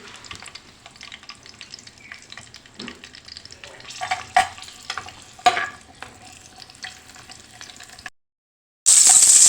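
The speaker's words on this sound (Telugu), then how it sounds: "ఆయిల్ హీట్ అయిందండి ఇప్పుడు పచ్చిమిర్చి వేయాలి ఇలా ఫ్రై చేసుకోండి పచ్చిమిర్చి" Green chillies frying in hot oil for a beerakaya chutney, a continuous crackling sizzle with sharp spatters and stirring scrapes, briefly cut off before a loud hiss returns.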